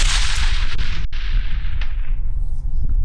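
A rifle shot fired at a steel target 500 yards away, a loud blast followed by a long decaying roar with a faint distant impact, heard up close outdoors.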